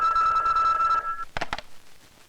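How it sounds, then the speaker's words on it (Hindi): A telephone in the 1986 Hindi film Badkaar rings with a steady electronic trill, close and clear, then stops, followed by a couple of short clicks and quiet. "यस सर, रिपोर्टर राकेश का फोन है।"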